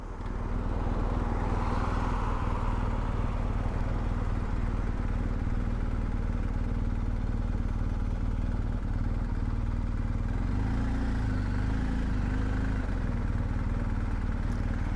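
Several BMW GS and GSA adventure motorcycles pass along a road, their engines a steady, continuous drone that swells mid-way as more bikes roll by, with no talking.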